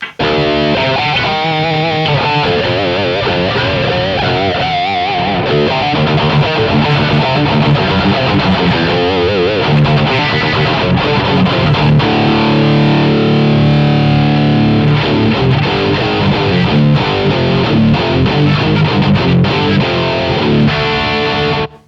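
Heavily distorted electric guitar plays dense, chugging riffs through the modern channel of a BluGuitar Amp1, loud and continuous with sustained chords and a mid-hump tone.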